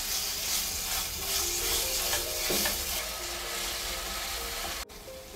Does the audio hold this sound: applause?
no